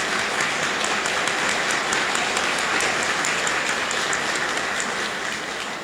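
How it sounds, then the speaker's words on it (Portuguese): A church congregation at Sunday Mass gives sustained, dense applause, a loud unbroken wash of many hands clapping with no voices on top. "Eu acho que a nossa comunidade merece uma salva de palmas."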